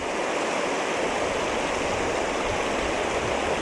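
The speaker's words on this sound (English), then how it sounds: "I'll just swing around here and show you the waterfall." The Glen Nevis waterfall in Scotland roars steadily and loudly, a dense unbroken rush of falling water that stays constant from start to finish, with no talking.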